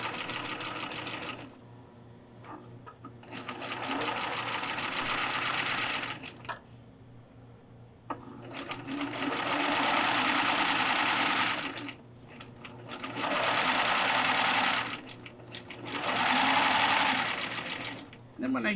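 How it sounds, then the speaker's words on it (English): A serger sewing machine stitching a pillow runs in long steady whirring bursts with short pauses between them, while a person talks in the background. "And I'm going to just sew that in."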